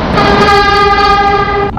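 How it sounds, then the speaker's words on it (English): A Minecraft train sounds a loud, steady, horn-like tone that holds for almost two seconds and then cuts off abruptly, with no voices over it. "Look at me, I'm driving a train!"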